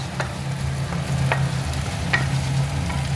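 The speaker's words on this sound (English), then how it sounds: "So now the onion are nice caramelized." Caramelized onions fry in a pan, giving a steady sizzle with a low background hum, broken by occasional scrapes and clicks of stirring, and no voices.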